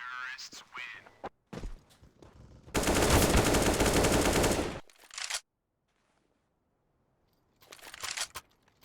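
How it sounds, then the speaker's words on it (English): Gunfire in a Counter-Strike match, loud bursts of automatic shots with a long dense volley in the middle, then silence and a final short burst, close and dominant. "Shots coming out."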